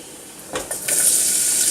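Onions hit a hot pan, a few soft clattering drops giving way to a loud, steady hiss of sizzling frying that carries on to the end.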